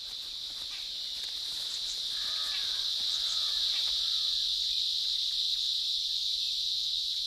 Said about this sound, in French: c'est la cigale qui a le chant nuptial le plus bruyant